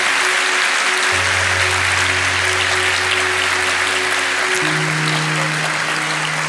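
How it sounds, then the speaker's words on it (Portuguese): Church congregation clapping strongly for Jesus during a worship service, dense continuous applause throughout with a low sustained tone humming underneath. "dá uma salva de palmas bem forte para o Senhor Jesus"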